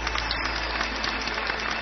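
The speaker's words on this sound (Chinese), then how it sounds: "掌声有请" Applause from a television studio audience during a Chinese science programme, a short steady patter of clapping with no voices over it.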